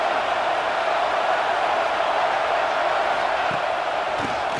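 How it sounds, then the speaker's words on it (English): A large home crowd at a Mississippi State vs Tennessee college football game roars in a dense, continuous wash of cheering that holds steady throughout without pause. "this home crowd is fired up and ready to make a difference"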